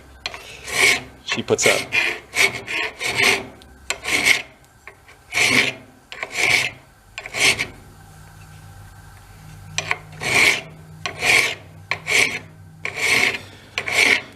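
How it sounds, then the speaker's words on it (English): Hand file rasping across a metal part on an old mini bike left decades in the woods, in about a dozen separate strokes, each a short scrape with brief pauses between, close and clear, with a few quiet spoken words. "let's go see if we can drag a file off and how much of a fight"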